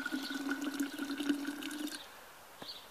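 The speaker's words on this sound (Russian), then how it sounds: "Наливать страшно, боюсь, банка лопнет, потому что чайник только что вскипел." Just-boiled kettle water poured into a glass jar, a steady liquid stream with a bright ringing tone for about two seconds, then stopping to a faint drip.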